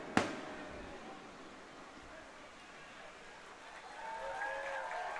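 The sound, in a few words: fireworks exploding over a baseball stadium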